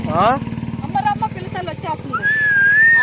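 A person whistles to call a pack of dogs, with a rising series of short whistles and then a long steady whistle over a constant low engine-like rumble.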